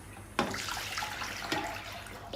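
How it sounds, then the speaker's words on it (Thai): Water pours into both bowls of a three-head Black Cool soft-serve ice cream machine during cleaning, a gushing splash that starts abruptly and surges again partway through, close and fairly loud. "ก็เทน้ำลงสองฝั่งค่ะ สักประมาณครึ่งโถนะคะ"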